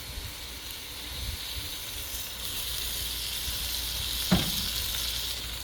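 Olive oil sizzles in a frying pan during preparation of chicken linguine alfredo, a steady, moderately quiet hiss with one brief clatter near the end.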